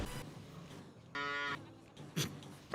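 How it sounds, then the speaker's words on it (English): Cow mooing in Farming Simulator 25, a single loud game moo standing out briefly against faint ambient farm background. "Random cow noise."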